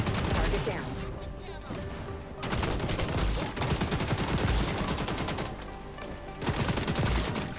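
Rapid automatic AK-47 fire from the video game XDefiant, bursts of loud crackling shots in quick succession, pausing briefly then resuming several times, with game effects mixed in.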